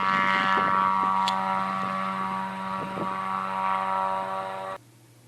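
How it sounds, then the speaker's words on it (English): A Wag-Aero 2+2 light aircraft's propeller engine drones steadily and loudly with a constant hum, then cuts off abruptly near the end, leaving quiet. "love the sound of that engine."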